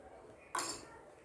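A freshly cooked millet dosa being set onto a plate, with a single short metallic clink of dishes against a quiet background.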